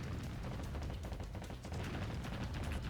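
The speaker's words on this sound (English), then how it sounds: "I'm watching the missiles explode in midair" Missiles burst in midair during a naval battle in the video game Warship Gunner 2, a continuous loud wall of gunfire and explosions with rapid overlapping blasts and no pauses.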